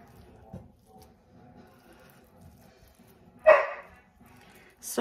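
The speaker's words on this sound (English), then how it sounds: "Sorry about my dog barking." A pet dog in a home kitchen gives a single sharp bark, fairly loud and close, against a quiet background with faint household noise before and after.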